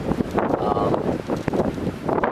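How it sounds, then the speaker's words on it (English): Gusty morning wind at a bushcraft campsite buffets the microphone in uneven rushes, loud and close, with rumbling bursts rising and falling throughout. "Still windy."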